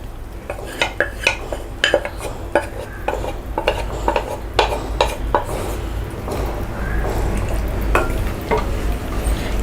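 Mutton cooked with yogurt being added to a biryani gravy and stirred in a pot, with a run of sharp utensil scrapes and clanks against metal over a steady low sizzle, close and alone.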